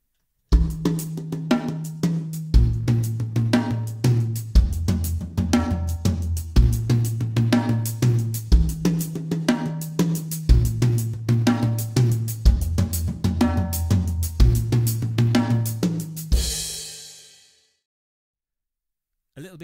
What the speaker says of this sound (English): I'm just going to go snare to first tom, snare to second tom, snare to floor tom,